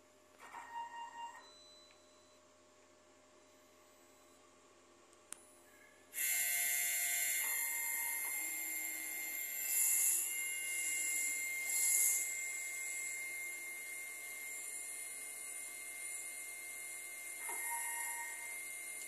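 A DTF printer running a nozzle test, starting with brief mechanical clicks and a thump, then a sustained high whine as the print head shuttles, with periodic louder passes, close by and without speech.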